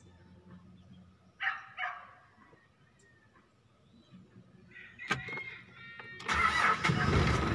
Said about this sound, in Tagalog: testingan na na og paandar ang sakyanan